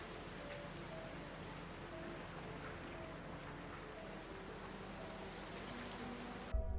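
Steady rain falls continuously on a surface throughout, a dense even hiss with a faint low hum beneath, no voices, ending in a brief louder thump.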